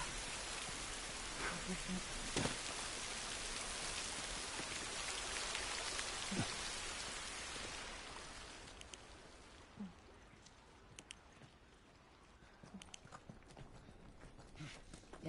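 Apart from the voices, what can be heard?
rain in the video game The Last of Us Part 1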